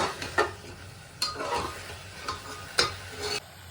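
A spoon stirs chicken with ginger, garlic, chilli paste, bay leaf and roasted cumin powder in a pressure cooker pot, making repeated scraping sweeps over a soft sizzle, close and clear, with no talking.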